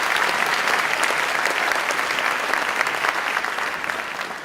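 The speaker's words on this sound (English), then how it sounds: "Give him a round of applause, Mr. Camarista." Steady, enthusiastic applause from a large audience at a State of the State address in Harlem, a dense wash of clapping that holds evenly and tapers slightly at the end.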